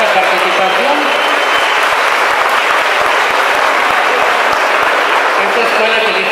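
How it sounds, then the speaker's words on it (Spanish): Sustained, loud applause fills a school awards ceremony for winning student prototypes, a dense, even roar of clapping with voices mixed in. "También por ellos de antemano pido otro aplauso"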